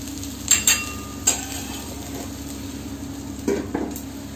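Capsicum and egg frying in a pan for capsicum egg rice, with a soft continuous sizzle under a few sharp spoon scrapes and clinks against the pan, grouped near the start and again toward the end.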